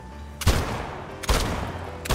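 Three sharp volleys of gunfire from the mobile game City of Outlaws, each a loud burst that fades quickly, arriving in a steady rhythm roughly every second.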